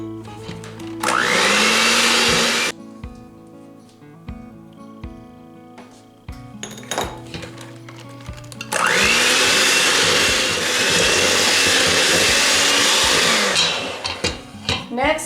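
An electric mixer beats eggs into cake batter for a marble cake, whirring loudly in two long runs with quieter clinks and bowl sounds between them.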